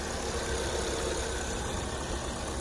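A 2020 Kia K5 with a 2.0-litre LPG engine idles steadily, a smooth continuous hum without pauses or revving.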